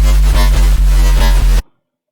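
An FM synth tone from the Sytrus synthesizer plays alone, loud and buzzy with a steady low fundamental, pulsing in a regular rhythm before cutting off abruptly into silence.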